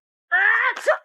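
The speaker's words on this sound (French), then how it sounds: "À tes souhaits." A single human sneeze in a classroom: a drawn-out voiced intake rising into a sharp burst near the end, close and fairly loud, with no other sound around it.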